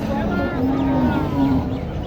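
A cow mooing at a busy cattle market, with a sustained low moo rising and falling over constant crowd murmur.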